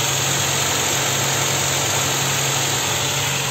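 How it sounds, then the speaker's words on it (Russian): A Ford Galaxie engine runs on petrol on a Gazelle ECU, with a loud, steady idling drone and a faint whine, unbroken throughout and with no talking. "видите, как работает на бензине, не на газу. На газелевских мозгах"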